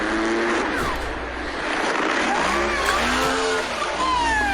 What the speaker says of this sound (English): Seen here in slow motion, Vil Lamatina's dragster becomes airborne